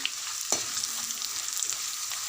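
Garlic chili powder is stirred into frying rice in a pan, with a steady close sizzle, a sharp scrape near the start and light stirring clicks, no voices.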